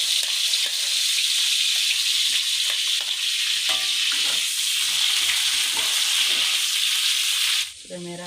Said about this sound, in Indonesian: Pas panas, kita masukkan dulu bawang merah.